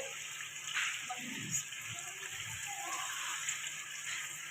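Goat stock (yakhni) for Lahori goat trotters poured into a cooking pot, a steady liquid gush lasting a few seconds, with a voice speaking softly underneath.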